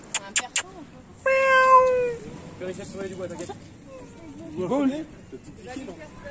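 A cat gives a drawn-out meow, followed by softer mewing and faint murmuring voices in the background.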